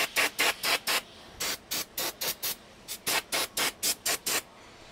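Cleaner sprayed from a trigger bottle onto plastic fuel-system parts of a Stihl FS 85 trimmer: about eighteen short, sharp hissing bursts in quick, even succession, close and loud, with no talking.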